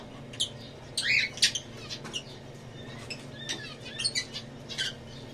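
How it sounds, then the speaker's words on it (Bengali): Small birds chirp close by in short bright bursts, several quick tweets scattered over a soft background hum, with no one speaking. "পাখি তো কাছেই থাকে"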